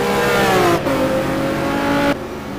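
The big Viper race car's engine in a racing game at the Daytona road course, loud and close, a steady high-revving roar that climbs, drops at a gear change, holds, then cuts back as the car lifts off.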